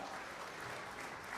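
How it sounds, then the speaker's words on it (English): An audience at an association's triennial conference applauds the leaders who travelled from across the country, a dense, steady burst of clapping that holds evenly through a short moment. "Big round of applause for all the leaders who have come across the country"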